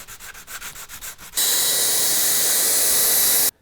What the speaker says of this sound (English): let's sand the surfaces. I'm going to use a medium grit paper because all I'm trying to do is roughen the surface